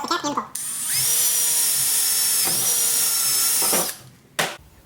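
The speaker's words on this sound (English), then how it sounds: "Drill a hole." A power drill bores a hole in a capped seven-foot pole, a loud sustained high whine for about three seconds between brief starts and stops of the motor.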